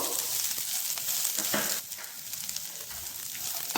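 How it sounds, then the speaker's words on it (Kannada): A handful of drumstick leaves frying in tempering oil, giving a steady close sizzle with a few stirring scrapes. "ಇದರ ಕೈ ಅಂಶ ಹೋಗೋ ತನಕ ಚೆನ್ನಾಗಿ ಇದನ್ನ ಈ ಒಗ್ಗರಣೆಯಲ್ಲಿ ಹುರ್ಕೋಬೇಕು."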